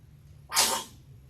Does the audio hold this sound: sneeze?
yes